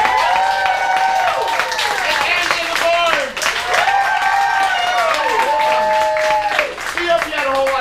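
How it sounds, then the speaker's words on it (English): An audience at a Funhouse Lounge comedy show, Comedy of Terrors, breaks into sustained loud applause and clapping. A host speaks over a microphone at the same time. "A giant round of applause"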